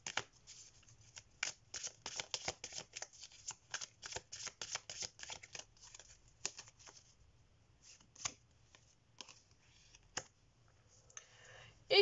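Tarot cards being shuffled and drawn by hand: dense rapid riffling flicks for several seconds, then sparser card snaps and slides, close and quiet with no talking.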